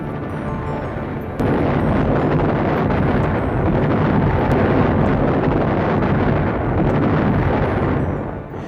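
Artillery bombardment in a 1943 wartime battle, heard as a continuous loud roar of explosions and rumbling booms that starts abruptly and holds steady without pause.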